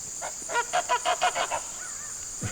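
Geese in the woods honk repeatedly, about eight quick nasal calls in a steady run, over a constant background hiss.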